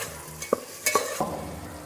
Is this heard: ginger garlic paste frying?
yes